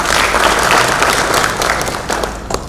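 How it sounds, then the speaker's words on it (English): Sustained applause from the audience at an international training programme on seed education and enterprise development, a dense, loud wash of clapping throughout with a few sharper claps standing out near the end. "A big round of applause and welcome to all of you."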